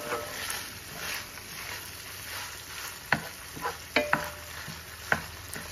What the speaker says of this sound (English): Stir the meat together with the onion and the garlic until the onions are cooked down and also the garlic is lightly cooked but not burned.